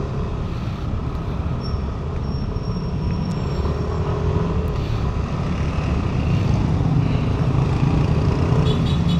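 A Yamaha NMAX V3 motor scooter riding on the road, a steady loud engine drone mixed with heavy wind rush, continuous throughout with no talking.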